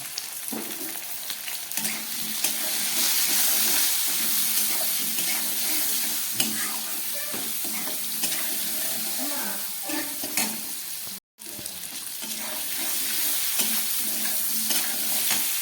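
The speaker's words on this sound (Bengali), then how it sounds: "টমেটো আলুটাকে অল্প ভেজে নিলাম।" Tomato and potato frying in a pan for ghugni, a steady close sizzle with spoon stirring and scraping throughout and a brief dropout near the end, no talking.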